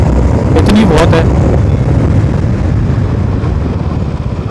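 A Royal Enfield Meteor 350 motorcycle cruises in fifth gear at road speed, its engine drone close and steady beneath heavy wind rush, with a brief whine early on.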